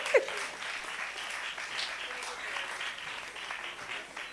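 A church congregation claps in steady, dense applause to acclaim the Lord during a worship service. The sound is even and sustained throughout, with a sharp accent right at the start.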